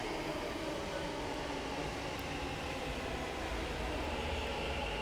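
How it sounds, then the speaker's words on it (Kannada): Metro train pulling into a station, a steady broadband rumble and rush of rail noise that holds at an even, fairly loud level throughout with no talk. "ಸೊ ನನ್ನ ಟ್ರೈನ್ ಬಂತು"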